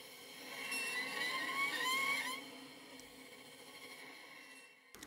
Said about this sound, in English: we've got the broken cello Dream Spirits